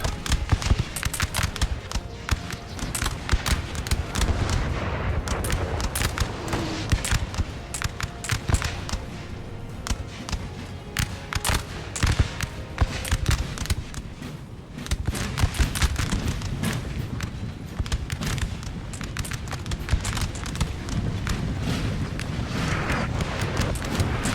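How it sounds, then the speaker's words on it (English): Artillery cannon fire in the video game Napoleon: Total War, a dense, continuous barrage of sharp booming reports mixed with crackling musket volleys, loud and sustained throughout a battle scene. "They're firing on the building with their cannons, well, their artillery."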